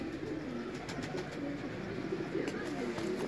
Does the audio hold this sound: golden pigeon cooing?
yes